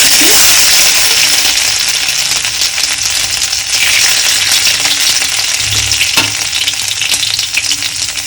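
Panch phoron spices and ginger frying in hot oil for a winter cabbage dish, a loud continuous sizzle close up with occasional clinks and scrapes of stirring.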